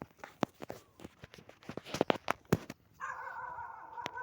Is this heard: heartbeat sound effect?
no